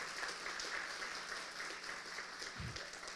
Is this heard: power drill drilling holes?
no